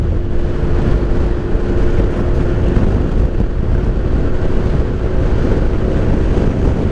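Steady, loud rumble of wind buffeting over a low motorcycle engine drone, continuous throughout as if riding at speed on open road in Pangasinan, Philippines.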